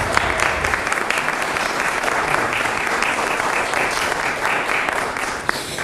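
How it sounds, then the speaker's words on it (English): A large press conference audience breaks into loud, dense applause that stays steady and close for the whole stretch. "Ms. Jordan, you can clap about that"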